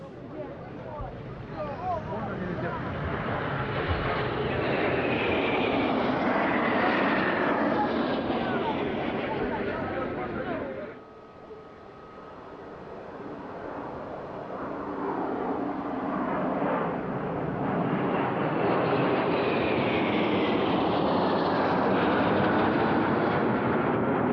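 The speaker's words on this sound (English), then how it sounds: "And now for the long-awaited fighter flypast. First, the Yak-130 fighter trainer and light attack aircraft." A Yak-130 fighter trainer jet passes overhead at a Russian Air Force anniversary airshow, a loud, broad roar swelling and fading, dipping briefly midway before a second loud rush builds again, with wind buffeting the microphone.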